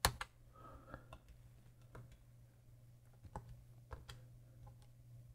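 Faint plastic keys on a TI-74 calculator are pressed one at a time, giving soft irregular clicks over a low steady hum.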